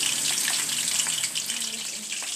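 Shrimp fry in hot oil in a home kitchen, making a steady, soft sizzling hiss that runs without a break.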